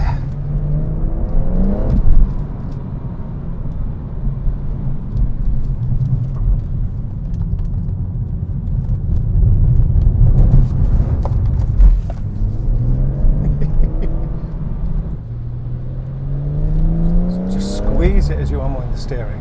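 BMW M140i engine pulling under throttle in the rain, a steady rumbling drone with rising revs, loud and close throughout, with someone talking over it.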